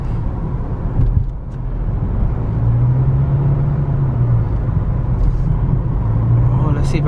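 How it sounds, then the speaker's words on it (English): Cars and other road vehicles move through busy Miami street traffic, a steady close engine rumble with a passing-vehicle swell, nearly continuous for the whole stretch. "And these cars are driving crazy in Miami."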